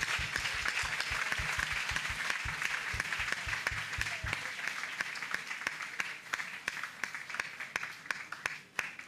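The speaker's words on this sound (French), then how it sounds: "Acclamez très fort. Clap, clap, clap, clap, clap, clap." Crowd at an outdoor gospel crusade applauding: loud, dense, sustained clapping throughout, with a rhythmic low thumping beat in the first half.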